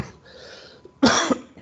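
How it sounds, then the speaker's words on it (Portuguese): A man gives a single hoarse cough, loud and close, after a quiet stretch with faint background noise. "eu começo a falar, eu começo a tossir ao mesmo tempo"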